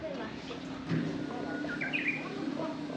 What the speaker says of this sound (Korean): 오 새소리 장난 아니네